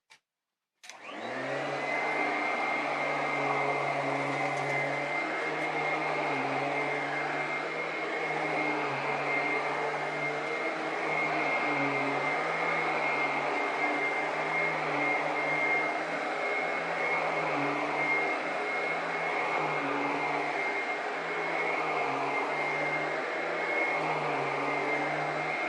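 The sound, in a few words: vacuum cleaner sweeping carpet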